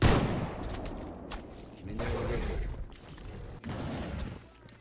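Gunfire in the game S.T.A.L.K.E.R. GAMMA, several loud close shots and bursts over a few seconds, mixed with shouted talk.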